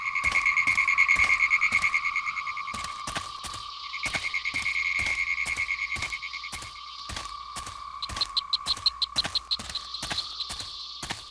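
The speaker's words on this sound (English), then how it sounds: "There's all kinds of atmospheric noises like frogs, crickets, and splashing water." Frogs croak in a game's ambient soundscape from the Sega Dreamcast title Draconus: Cult of the Wyrm, with rhythmic repeated croaks over a steady trilling drone and sharp ticking chirps joining toward the end.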